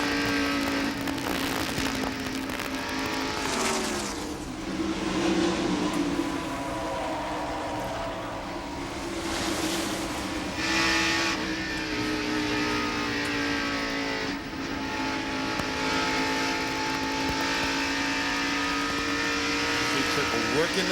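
NASCAR Winston Cup stock cars race in the 1990 Budweiser 500, engines whining and shifting pitch as they pass and accelerate in a continuous roar, with a commentator talking over it.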